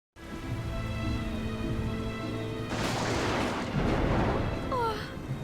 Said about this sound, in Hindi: ये बारिश कब रुकेगी?